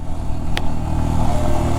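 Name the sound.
motorcycle engine running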